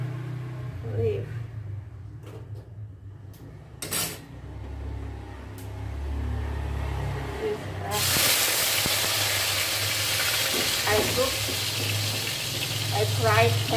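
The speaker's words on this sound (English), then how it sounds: "I fried tempe, just only not only a half cook" Tempe frying in hot oil for an Eid vegetable gulai, a steady sizzling hiss that swells louder partway through, with a low background hum and brief bumps of kitchen handling.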